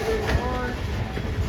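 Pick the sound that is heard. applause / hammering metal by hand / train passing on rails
train passing on rails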